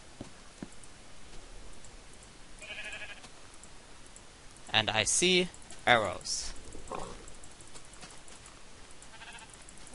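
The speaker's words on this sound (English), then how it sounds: "I hear sheep." Sheep bleating in Minecraft, a couple of short bursts around the middle over a quiet game backdrop, with a player talking and other game effects nearby.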